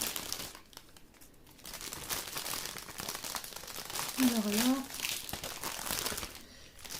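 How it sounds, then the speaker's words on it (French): Paper bags crinkle and rustle close by in bursts during an unboxing, with a brief spoken phrase partway through. "le bruit du papier, c'est pas agréable du tout"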